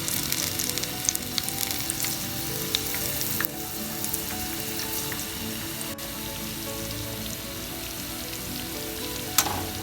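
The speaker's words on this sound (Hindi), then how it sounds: "अब बाकी पकौड़े भी इसी तरह फ्राई कर लेंगे।" Pakoras for kadhi pakora deep-frying in hot oil, a steady close sizzle and crackle running through the whole stretch with small pops, no voices.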